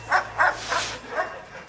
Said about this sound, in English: the dogs just love it